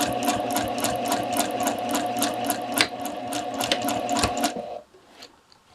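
A sewing machine stitches a side seam on a slash pocket, running steadily with a rapid regular needle rhythm, then reversing to back tack at the seam's end before stopping abruptly into near quiet.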